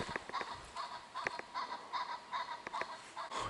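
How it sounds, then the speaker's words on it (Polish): Repeated short clucking and squawking calls from poultry, scattered irregularly over a steady faint background, fairly close. "Kury."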